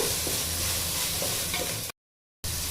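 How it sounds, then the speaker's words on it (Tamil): Tomatoes sauté in a pan for prawn biryani, giving a steady, dense sizzle and stir close by. The sound drops to silence briefly near the end, then the sizzling returns. "தக்காளி வதங்கிடுச்சிங்க"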